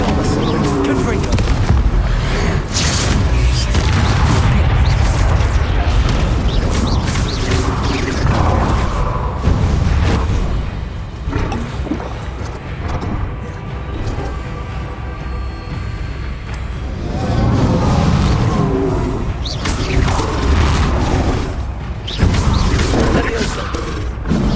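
Spell blasts and explosions in the video game Hogwarts Legacy crash and boom in dense bursts, mixed with whooshing effects and a voice shouting spell names throughout.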